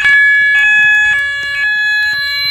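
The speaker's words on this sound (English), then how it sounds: "that was the fire alarm" A fire alarm in a Roblox game sounds loudly in rapid repeated pulses, a harsh electronic tone cycling steadily without pause.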